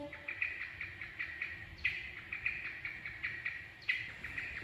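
Blackbird calls repeat in short bursts against a low background rumble, fairly faint and at a distance.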